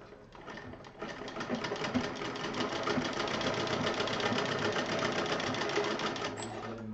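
A sewing machine stitching cotton fabric pieces for a patchwork cushion cover: a steady, fast mechanical whirring rattle that builds after a second and runs close and unbroken for several seconds.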